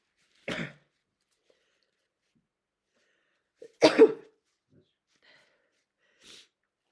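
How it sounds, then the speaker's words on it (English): A short breathy intake, then a single sharp sneeze-like burst, close and loud, with faint sniffs afterwards in an otherwise quiet room. "Sorry, I'm going to sneeze."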